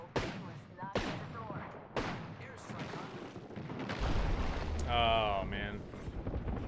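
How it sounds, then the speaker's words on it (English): Airstrike bombardment in PUBG: a run of heavy, sharp blasts lands at intervals, followed by a rumbling, sustained roar, with a voice speaking briefly over the explosions. "I called in that airstrike."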